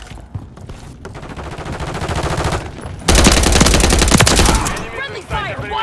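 Automatic gunfire from a Striker SMG in Modern Warfare 3 rattles in loud rapid bursts, with the heaviest burst near the end and a voice shouting briefly.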